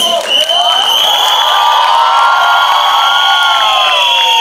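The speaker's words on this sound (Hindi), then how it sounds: "तुम क्यों चिल्ला रहे हो?" A crowd of fans at a Bollywood film promotion event cheers and shouts loudly and continuously, high-pitched screams and whoops sustained throughout with scattered clapping.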